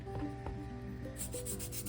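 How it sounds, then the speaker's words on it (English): Quiet, close rubbing and scraping of a sanding stick against a small wooden ship model in short back-and-forth strokes, faint and steady, with no voices. "So, for the moment, we're going to be sanding"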